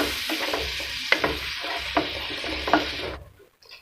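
Ground tomato paste, made from three medium tomatoes, being stirred in a pan for chilli egg: a steady close sizzle with a few crisp clinks of the spoon on the pan, then the sound drops away near the end.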